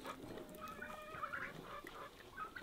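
Chickens cluck and call in a yard in a Nepali hill village, several birds close by with broken, overlapping clucks and a few higher squawks, with no talking over them.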